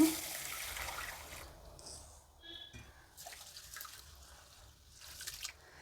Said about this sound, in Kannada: ಹಾಗಾಗಿ ಈಗ 1-2 ಸಲ ತೊಳೆಯೋಣ ಎಲ್ಲನೂ.